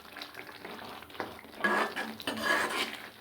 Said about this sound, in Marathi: आणि मिक्स करून घेते व्यवस्थित